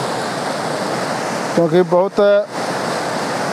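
Fast-flowing river water rushes loudly and steadily in a strong, continuous roar, with a voice speaking briefly over it midway.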